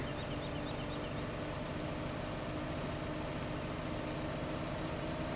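A tractor engine in the video game Farming Simulator 15 drones steadily while driving, a constant low, humming engine tone at moderate level with no talk over it.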